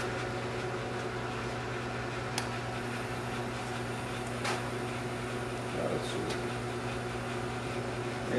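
A Hardinge HLV-H toolroom lathe with DRO spins at 1,000 RPM on low feed, giving a quiet, steady mechanical hum with a few faint clicks and ticks throughout.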